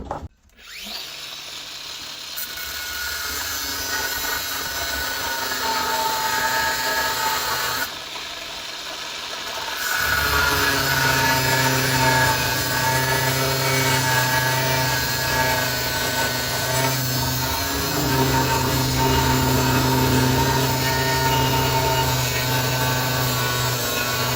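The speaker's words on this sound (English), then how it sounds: "Grinder." A grinder working on a Honda lawn mower blade, a sharp burst at the start, then a sustained loud whining drone with harsh grinding texture that rises in intensity around ten seconds and continues steadily to the end.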